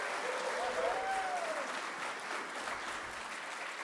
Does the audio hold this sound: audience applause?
yes